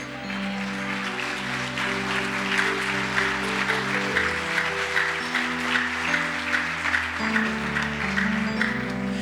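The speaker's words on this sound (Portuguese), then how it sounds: "Aplauda Jesus." Applause from a church congregation during a Sunday worship service fills the space with a steady, dense wash of clapping, mixed with sustained musical tones underneath, continuous and fairly loud throughout.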